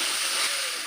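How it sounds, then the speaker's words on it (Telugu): A kilo of washed chicken pieces sizzles and fries in hot oil in a pan while being stirred, a loud close continuous hiss with a short scrape at the end. "ఇక కడిగి పెట్టిన చికెన్ వేస్తున్నా. ఇక కిలో చికెను ఇక కలుపుకున్నా."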